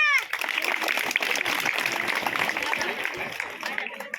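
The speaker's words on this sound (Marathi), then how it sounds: "आता टाळ्या वाजवा, टाळ्या" A crowd claps steadily at a voter-awareness rally in Wakhari, Nashik, the dense clatter running for the whole clip with voices mixed in.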